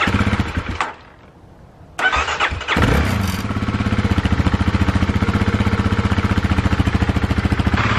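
A Kawasaki KLX351 motorcycle with an open header exhaust is cranked and starts after a pause, then settles into a loud, rapid, rough single-cylinder idle that pulses steadily and close.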